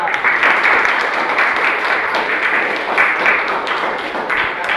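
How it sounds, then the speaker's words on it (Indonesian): A study group in a class session claps for the second team, a loud, dense round of applause with audible individual hand claps, sustained steadily for several seconds. "tepuk tangan untuk kelompok 2"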